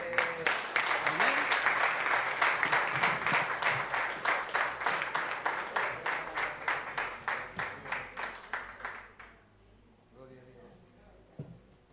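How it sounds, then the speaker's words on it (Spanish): Church congregation applauding loudly at a service, with dense clapping that runs steadily for about nine seconds, then fades out into a quieter room with faint voices. "Denle un fuerte aplauso"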